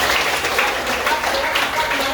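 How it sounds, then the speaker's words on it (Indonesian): A sixth-grade class claps for classmates in a school lesson, brief busy applause from many small hands filling the room, with some voices mixed in. "Tepuk tangan untuk teman kalian."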